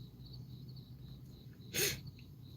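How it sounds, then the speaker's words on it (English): A single sharp sneeze bursts out close by, brief and loud against a quiet background hum. "he never heard me sneeze so much on here"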